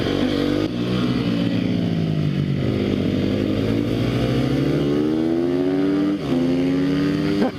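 Sherco 300 SEF-R four-stroke dirt bike ridden off-road, the engine loud and close throughout with rising and falling revs, gear changes and brief throttle blips, no talking.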